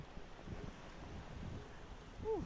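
A rainstorm with thunder gives a steady, hissing wash of rain and low rumbling, with some wind buffeting the microphone and a brief voice near the end.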